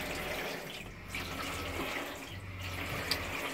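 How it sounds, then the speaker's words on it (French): Hot water runs steadily from a tap into a clean-water tank, a continuous close rushing and splashing flow that keeps an even level throughout. "l'eau chaude, pareil. Donc on laisse bien couler"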